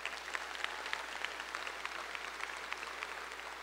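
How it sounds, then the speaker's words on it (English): Faint applause comes from spectators in the stands at the International Brown Swiss cow show during the grand champion female presentation. The clapping is distant and steady over a low background hum. "So give her a nice round of applause."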